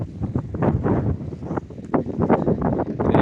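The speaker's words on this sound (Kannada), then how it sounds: "ಗಾಳಿ ಗಾಳಿ ಗಾಳಿ ಗಾಳಿ ಸಿಕ್ಕಾಪಟ್ಟೆ ಗಾಳಿ" Strong gusting wind buffets the microphone outdoors in a eucalyptus grove, producing loud, rumbling roars that rise and fall in irregular bursts throughout.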